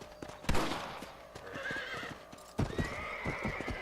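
Horse in the Red Dead Redemption video game, with steady clip-clopping hooves and a loud whinny, plus sharp game sound effects over a continuous outdoor ambience, no talking.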